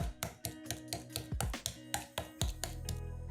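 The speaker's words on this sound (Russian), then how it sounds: "Рыбу немного отбиваем молотком для мяса с одной стороны." A meat mallet pounds a fish fillet in a quick, steady rhythm of about a dozen sharp, close taps, then stops.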